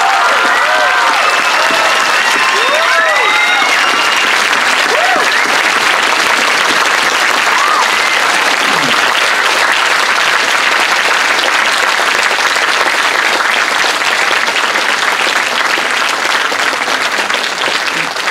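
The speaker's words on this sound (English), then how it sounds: "Please give a warm, loud, and long round of applause for the graduating class of 2018." Loud, sustained applause from a large crowd at a 2018 school graduation day, honoring the graduating class; dense continuous clapping throughout, with a few faint whistles and cheers early on.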